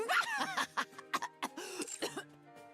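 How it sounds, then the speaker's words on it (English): A character in the NIKKE game story breaks into a string of hoarse coughs and throat-clearing mixed with short vocal sounds, close and fairly quiet. "You were doing so well, and then you just started coughing."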